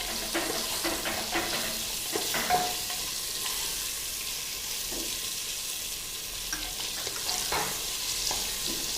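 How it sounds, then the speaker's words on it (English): Drumstick pieces and carrots stirred in a pot for bisi bele bath, giving a steady close sizzle with clattering stirs and scrapes throughout, no talking. "Now let's add the drumstick."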